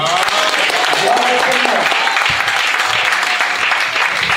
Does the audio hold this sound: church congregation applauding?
yes